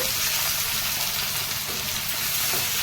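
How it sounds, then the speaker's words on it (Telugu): Tomato pieces frying in a pan while cooking a yam and malabar spinach curry, a steady close hiss and crackle of sizzling oil with faint stirring, continuous and without talk. "ఇప్పుడు టమాటా ముక్కలు వేసుకుందాం ఇది బాగా మగ్గాలి టమాటా"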